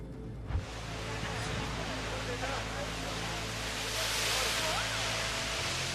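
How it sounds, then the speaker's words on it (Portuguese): Atlantic Ocean waves break along the coast of Portugal, a steady broadband roar of surf with a sharp burst near the start and a swell building later, fairly faint. "Pode-se observar infinitamente as ondas do Oceano Atlântico, quebrando nas costas de Portugal."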